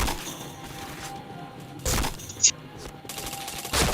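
Bursts of gunfire in a shooter video game with headshots, a few sharp cracks and a rattling volley, with players talking over the action.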